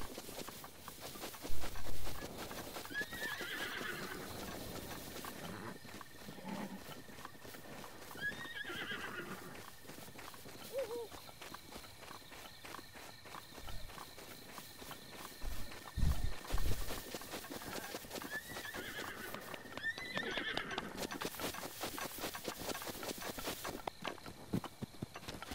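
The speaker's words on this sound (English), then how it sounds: "Oh, there are horses." Horses in the video game Zelda: Breath of the Wild whinny several times, with clip-clop hoofbeats and walking footsteps across a steady outdoor ambience, and no speech.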